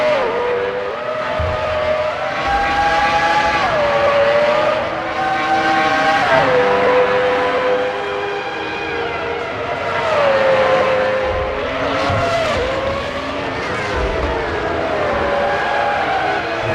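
Formula One race cars in a pit lane in the racing game Formula One 05 at the French Grand Prix, engines whining and revving steadily with pitch sweeps as cars slow and pull away, loud and continuous with no talk.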